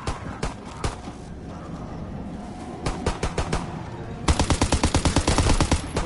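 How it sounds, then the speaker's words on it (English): Video game gunfire while shooting zombies, scattered single shots at first, then a fast, steady stream of rapid automatic fire, loud and close. "let's shoot up the zombies"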